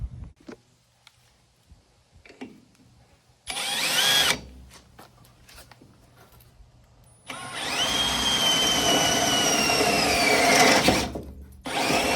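Power drill boring holes during a boat jack plate install on the transom, with two bursts of whining drilling, a short one then a longer sustained run, loud and close with quiet pauses between.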